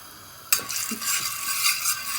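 Spice mixture of chili powder, turmeric and salt scraped and stirred in a hot pan, a sudden start followed by a steady close sizzle and faint scraping, with no talking.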